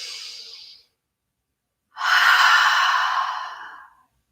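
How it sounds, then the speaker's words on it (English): Two clear breaths in a quiet stretching and recovery session: a short airy intake through the nose, a pause, then a longer, fuller, louder exhale that fades out, with no talking. "Take a deep inhale through the nose. Exhale to let it go."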